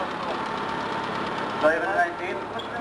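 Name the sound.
1947 Ford tractor engine running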